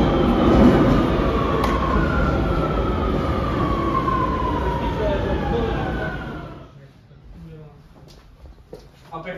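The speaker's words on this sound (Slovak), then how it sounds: "Barcelonské metro" A Barcelona metro train running loudly nearby with a steady rumble and a descending whine as it brakes, then quieting to station ambience with voices after it stops.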